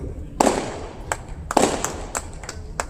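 Firecrackers burst in sharp cracking pops, two louder blasts followed by scattered smaller bangs, moderately distant and irregular.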